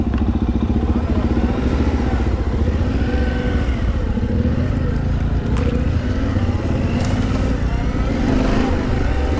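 A dirt bike on a single track trail with deadfall, engine droning steadily and loud throughout with clattering and bursts of revving as the rear tire struggles for traction.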